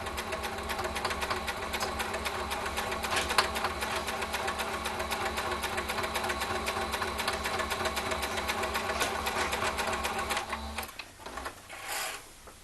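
A sewing machine runs steadily as it stitches down the sides of folded decorative fabric, a close, continuous rapid mechanical whir that stops near the end, leaving a few quieter handling noises.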